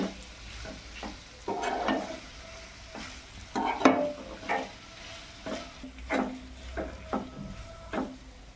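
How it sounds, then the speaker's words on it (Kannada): Paneer sizzles and spits in hot oil while a spatula stirs and scrapes the pan in irregular bursts, close up with no talking. "ಈಗ ಪನ್ನೀರ್ ಹಾಕ್ಕೊಳತ್ತೀನಿ ಈಗ ಚಂದಾಗ ಫ್ರೈ ಮಾಡ್ಕೋಬೇಕು ಪನ್ನೀರ್"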